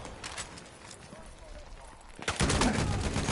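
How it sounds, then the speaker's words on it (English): Gunfire crackles through a team shooter match, pistol shots mixed into a noisy firefight that grows louder and denser in the last second, with game sounds and voices underneath. "Jeremy's trying to shoot a dude with his pistol."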